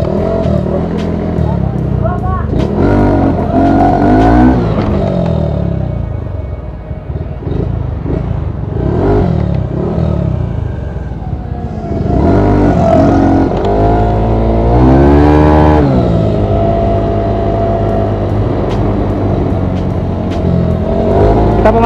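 A Honda Beat 110 scooter engine revving as it warms up before a wheelie test: a loud, close, continuous buzzing drone that rises and falls through repeated throttle blips, with people talking over it.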